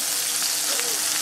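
Smash burger patties sizzle loudly in a hot pan, a dense steady hiss and crackle filling the moment without pause, close and bright, with a faint voice just audible beneath.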